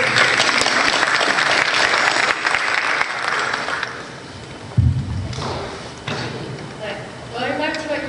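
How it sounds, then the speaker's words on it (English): Loud, dense applause from a panel discussion audience fills the first four seconds, then thins and fades as people begin talking over scattered claps. "And we'll applaud that."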